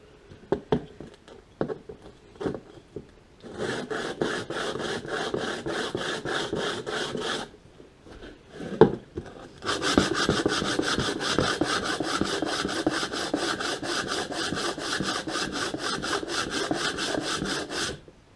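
The base of a Stihl 026 chainsaw cylinder block-sanded on sandpaper laid over plexiglass, giving steady back-and-forth rasping strokes, close and loud, with a short pause before a longer run of even, rhythmic scraping.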